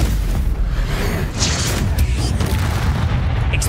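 A Stupefy spell is cast in the Hogwarts Legacy game, a loud booming magical burst with heavy low rumble and bright crackling flares over a few seconds of continuous combat noise.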